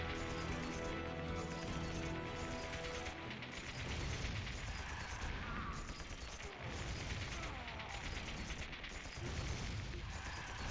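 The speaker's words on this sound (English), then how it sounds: "Gunfire. What could be happening?" Continuous dense gunfire and explosive bursts in the game Trails to Azure, loud and sustained throughout, with a musical drone underneath at the start.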